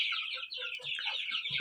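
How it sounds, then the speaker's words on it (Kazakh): Kuchinskaya Jubilee chicks over two months old cluck and chirp close by in a quick, busy series of short calls, with no talking. "Бұл жақта бізде 2 айдан асты балапандар."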